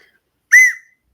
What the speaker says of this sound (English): It's a toy train whistle.